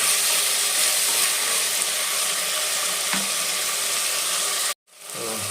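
Tomatoes frying in oil for tomato bath give a steady, dense sizzle close by, with a faint stir partway through, before the sound cuts out sharply and returns more quietly.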